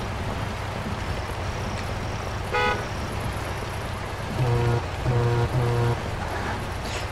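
Truck horn in the off-road driving game Spintires: one short honk, then three longer blasts in a steady rhythm, loud and upfront over a constant engine rumble.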